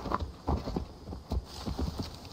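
Horse hooves clip-clop in the video game Assassin's Creed Valhalla, a close, steady run of rhythmic thuds with no voices.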